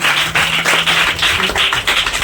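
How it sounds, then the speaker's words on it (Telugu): Church congregation clapping hands together in a dense, loud burst of rhythmic applause, several quick waves of claps close by, with no one speaking. "చప్పట్లు కొట్టి మరొకసారి"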